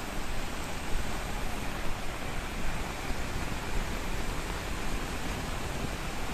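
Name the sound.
Savdav waterfall water rushing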